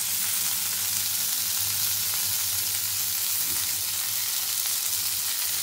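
Potatoes and ivy gourd frying in a pan with mustard paste, being stirred; a steady, close sizzle runs throughout with a low hum beneath and no talking.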